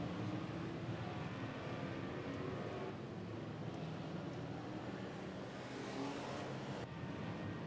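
Race cars lapping a track during a championship points race, a steady, dense engine roar with wind noise that holds loud and continuous throughout, with no distinct passes standing out.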